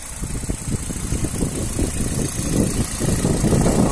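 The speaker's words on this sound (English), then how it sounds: "engine sound very nice and smooth." A 1.4-litre petrol Hyundai i30 Classic with manual gearbox idles steadily with a smooth, even rumble and faint mechanical hiss, close by, with no talking.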